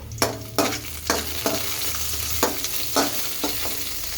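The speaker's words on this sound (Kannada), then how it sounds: "ಹೀಗೆ ಫ್ರೈ ಮಾಡ್ಕೊಳ್ಳಿ ಗೋಲ್ಡನ್ ಕಲರ್ವರೆಗೂ" Onions fry to golden in a pan, giving a steady hiss with regular scraping stirs about every half second, close and fairly loud.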